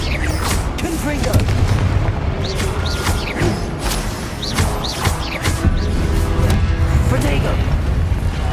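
Confringo blasting-spell explosions in the Hogwarts Legacy video game: a dense run of repeated booming blasts over a loud, continuous combat din, with several sharp impacts and no talk.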